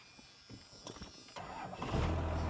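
A Cummins diesel in a six-speed truck with a weak, poorly connected battery cranks briefly and then catches, rising into a low, rumbling idle nearby.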